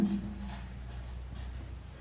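Someone writes on a board during a maths lesson on heights and distances, making faint, soft scratching strokes in short bursts, close by and with no voice over them.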